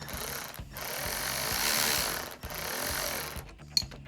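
A hand wrench tightening a nylon lock nut on a 10mm truck bolt of an electric skateboard, giving a steady run of rapid mechanical clicks and grinding over about three seconds, with a brief pause midway and a sharp snap near the end.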